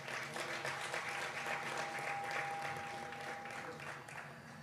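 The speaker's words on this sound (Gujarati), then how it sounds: "તાળીથી વધાવજો." Sustained applause from an audience at a Saturday gathering in Edmonton, Canada, a dense steady wash of clapping that stays loud throughout without pause.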